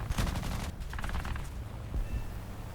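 Rapid bursts of 20mm cannon and 12.7mm nose-mounted machine gun fire from a fighter plane in an air combat video game, fast rattling shots close up with brief pauses between bursts.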